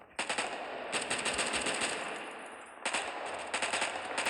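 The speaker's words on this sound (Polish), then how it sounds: "Możemy także kłócnąć, wybrać inną broń, jak na przykład Uzi." Uzi submachine gun fire in a video game, rapid bursts of automatic shots in three loud volleys with short pauses between, close and sharp, no voices.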